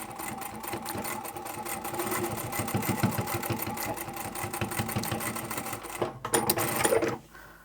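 A sewing machine running a back stitch across the centre seam of a beanie cap makes a steady close mechanical whir for several seconds, then stutters through a few short bursts before stopping.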